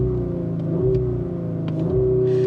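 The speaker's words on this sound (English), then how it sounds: "if you actually just turn the vehicle on before hitting the brakes, you can actually switch it to dynamic, so it'll give you an even louder starter" A 2024 Audi RS5 Sportback Competition idles in dynamic mode with a loud, low, steady engine drone close by, its pitch shifting slightly as the revs dip and rise once.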